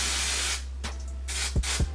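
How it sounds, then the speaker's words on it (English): Hair spray hissing from a can onto a wig's hair, one long steady spray followed by two short bursts, close and fairly loud. "All this spray can't cover 2 strands of hair."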